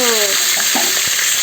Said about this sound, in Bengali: ভালোভাবে মাছের মাথাটা ভেজে নিচ্ছি